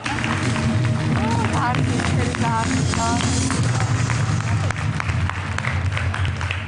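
A studio audience at a Georgian TV money game show claps continuously in a dense, steady wash of applause, with a few voices and whoops rising through it.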